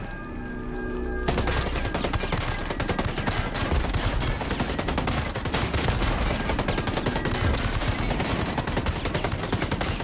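Light machine gun fire in Ghost Recon Breakpoint while fighting the Walker boss: dense, continuous automatic bursts and overlapping gunfire. It starts abruptly after a brief quiet moment and stays loud throughout.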